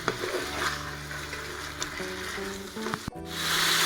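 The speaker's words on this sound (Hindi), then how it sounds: "2 से 3 मिनट इसको अच्छे से भूनेंगे" Chicken frying for yakhni, a sizzle and stir sound with steady crackle and scraping of the pan throughout, close and moderately loud with no talking.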